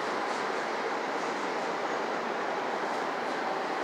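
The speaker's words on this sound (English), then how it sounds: "And here comes westbound Union Pacific intermodal on track number one." Westbound Union Pacific intermodal freight train passing at Sacramento alongside an Amtrak train, a steady broadband rumble and roar of rolling cars at moderate distance, continuous and unbroken throughout.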